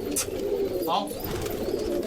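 A pigeon coos close by in a neighbourhood setting, a short soft throaty call heard alongside someone talking.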